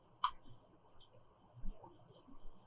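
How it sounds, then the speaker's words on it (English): A single mouse click on a copy icon, a short, crisp click near the start, close and quiet, followed by faint room noise with no talking. "Click on this copy icon"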